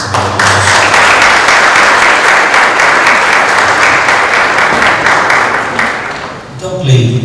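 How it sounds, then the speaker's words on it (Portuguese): An audience applauds at an institutional council meeting, with dense, steady clapping filling the room for several seconds before fading near the end. "Então eu peço a todos vocês uma salva de palmas."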